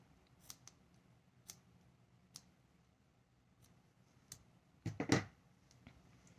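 Scissors snip a crochet yarn end on a chunky beanie: faint scattered ticks, then a brief cluster of crisp close cuts near the end, in an otherwise quiet room.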